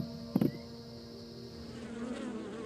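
Bees buzz in a steady, close drone, with a brief louder burst near the start as one passes nearby.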